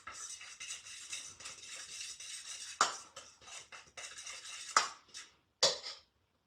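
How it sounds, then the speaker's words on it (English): A fork mixes dry ingredients in a bowl for keto donuts, giving continuous scraping and scratching strokes, close and steady, with a few sharper clinks of the fork against the bowl, no talking. "I'm just going to grab a fork and mix that up."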